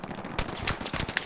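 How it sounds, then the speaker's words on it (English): Gunfire in a multiplayer shooter video game crackles in quick, uneven bursts of shots, fairly loud and continuous over a noisy background. "Gunfire."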